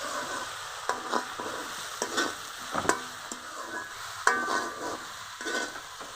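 Apple chutney with spices frying and being stirred in a pan, a steady close sizzle broken by repeated scraping strokes of a spoon every second or so, with no talking.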